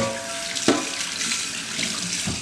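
Tap water runs steadily into a sink while a frying pan is rinsed under it, a close, continuous splashing rush with a brief clank of the pan.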